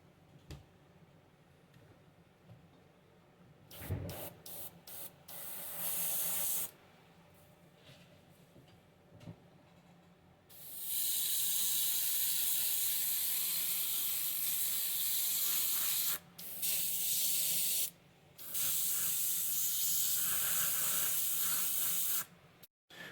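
An airbrush sprays Tamiya XF58 olive green paint onto a 1/35 A34 Comet model tank, with a loud steady hiss in long bursts, broken by short pauses and quieter handling between passes.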